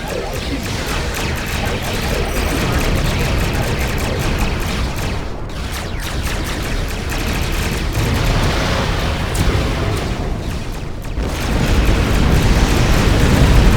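Starship weapons fire and explosions in the space combat game Star Trek Online, a dense continuous roar of blasts and rumbling booms that surges and dips, loud throughout.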